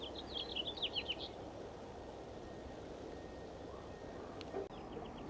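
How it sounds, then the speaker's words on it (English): Small birds call from roadside bushes by Brentwood Bay on Vancouver Island, with a quick burst of high chirps early on over steady outdoor hiss, then fainter scattered calls and a brief knock near the end. "There's lots of birds in these bushes here."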